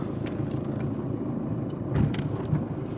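A Mercedes C200 drives along, its engine and road noise forming a steady low rumble with a slight swell near the end, heard close from inside the car and with no voices.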